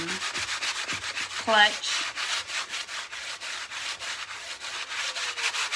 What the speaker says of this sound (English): So you just want to sand it lightly.